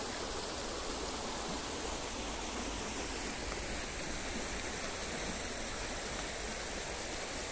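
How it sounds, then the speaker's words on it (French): Steady rushing water of an artificial river flows without pause, a broad constant hiss like a fast stream or channel, close and even throughout. "une rivière artificielle."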